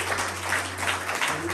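Church congregation applauding together at a Sunday service, a steady wash of clapping held at an even level from start to finish with a low hum underneath.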